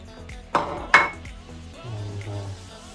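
A utensil clinks twice against a bowl while chopped onion, ginger and pepper are stirred into ground medu vada batter, followed by a soft scraping mix; close and quiet between the two bright taps.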